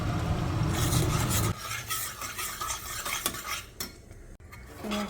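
Cumin powder being fried and stirred in a pan, with close scraping of a utensil against the pan over a soft sizzle that quiets after the first moments, alone with no voices.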